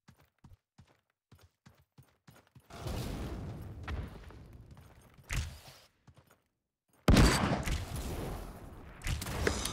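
Bow shots fired in quick succession in the battle royale game Realm Royale, a string of short, sharp snaps at a fast, even rhythm, followed by louder bursts of chaotic in-game noise.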